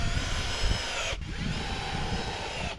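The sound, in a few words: power drill driving screws into archery net frame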